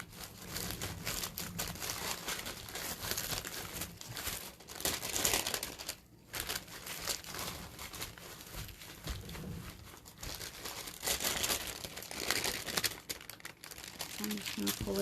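Saran plastic wrap crinkles and crackles continuously, close and fairly quiet, as it is pulled and wrapped around a tumbler being coated in gel, with irregular bursts of rustling.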